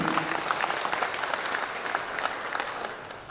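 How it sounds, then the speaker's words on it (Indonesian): Applause from the audience at a journalists' association installation ceremony in Dumai, a lively, sustained clatter of many hands in a hall with a faint crowd murmur. "Boleh kita beri tepuk tangan yang paling meriah Bapak Ibu sekalian?"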